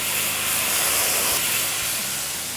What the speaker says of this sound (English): Add some liquid to the pan.